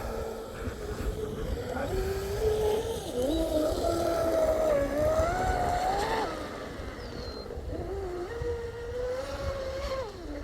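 A high, whining electric motor rises and falls in pitch as a fast electric model boat runs, with a rushing water and wind wash underneath.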